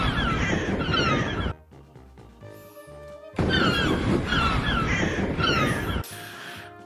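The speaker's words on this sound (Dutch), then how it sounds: "je ziet Johan Pieters een stukje vliegen tussen de kraaien" Crows caw loudly and close in two dense bursts of harsh, overlapping calls, separated by a quieter gap with a few lingering tones.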